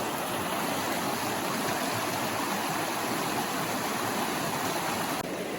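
A busy creek in California salamander habitat rushes steadily nearby, a dense, even wash of flowing water that fills the whole stretch without pause or voices.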